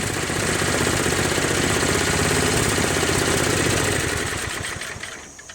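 A Craftsman mower with a 6 HP Briggs & Stratton Quantum engine, built from spare parts, idles with a steady close chugging putter that runs evenly, then drops in loudness as the engine winds down near the end.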